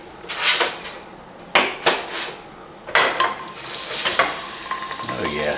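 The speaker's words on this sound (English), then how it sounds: "We're going to put some melted butter or some butter in there, get it melting." Butter melting in a small frying pan on a burner, with several sharp clanks of pan and utensil followed by a building, steady sizzle in the last seconds, close by.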